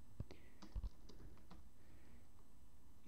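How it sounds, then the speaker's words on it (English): Typing on a computer keyboard while writing Go programming code, a few quiet, scattered key taps close by over a low background hiss. "you simply continue typing"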